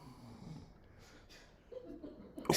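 A person snores softly close by, a brief, faint rasping breath that grows slightly louder near the end against quiet background noise.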